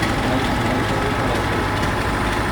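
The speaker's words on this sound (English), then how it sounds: "Another John Adams tractor is a 1950 cock shot, again built by Oliver." A 1950 Oliver-built Cockshutt tractor with hydraulic front-wheel assist runs in a small-town parade, its engine a loud, steady, continuous rumble with no break over the whole stretch.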